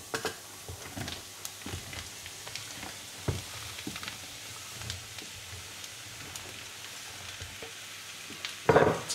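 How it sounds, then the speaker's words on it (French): Courgette slices fry in a pan with garlic and onion, a soft steady sizzle broken by scattered clicks and stirring knocks, ending in a brief louder scrape. "On va pouvoir maintenant incorporer donc les rondelles de courgettes."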